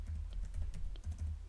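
Quick, light keystrokes on a computer keyboard as a command is entered, a short close burst of irregular clicks with brief pauses, no voices.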